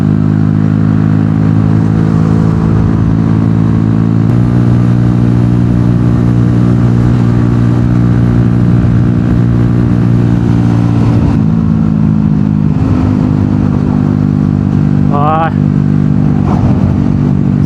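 A small-displacement Honda MSX motorcycle held at full throttle, its engine droning loud and steady with strong harmonics, dipping in pitch before briefly revving up again; a rider's voice is heard over it.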